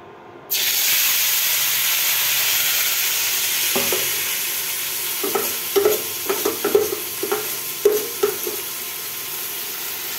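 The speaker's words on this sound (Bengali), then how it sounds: "এই তেলের মধ্যে মাখা চচ্চড়িটা দিয়ে দিব" A mix of chopped potato, onion, green chili, turmeric, salt, ginger paste and cumin hits hot oil in a karahi with a sudden loud sizzle, then keeps hissing while a spatula stirs it in irregular clattering scrapes.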